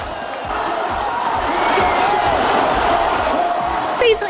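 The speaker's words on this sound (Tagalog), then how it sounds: "Ang ilang minuto ng walang humpay na hiyawan at palakpakan sa San Andres Sports Complex" A large crowd at the San Andres Sports Complex roars with continuous shouting, cheering and clapping during a boxing fight, a dense wash of noise that swells and holds.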